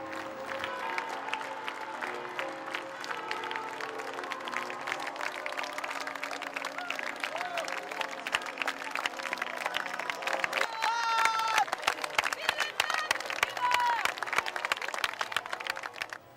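Large outdoor crowd at Lourdes applauding as the popemobile arrives, with sustained dense clapping that swells slightly partway through, some cheering voices mixed in, and murmured talk underneath.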